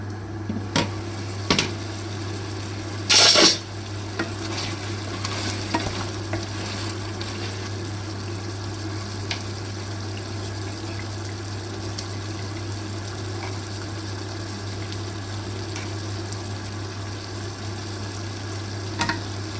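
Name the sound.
tomatoes frying and being stirred for chicken pulao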